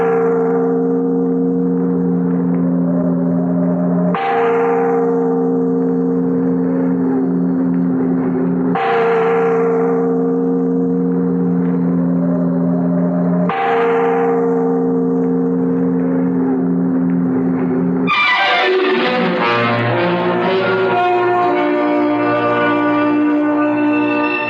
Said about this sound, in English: Make that bell ring loud enough to wake the living as well as the dead.